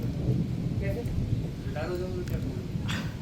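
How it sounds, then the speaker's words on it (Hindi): Heavy monsoon rain with rumbling thunder in the Uttarakhand mountains, a dense continuous low roar and patter throughout, loud and close, with a person talking over it. "अचानक इतनी तेज़ बारिश होने लग गई"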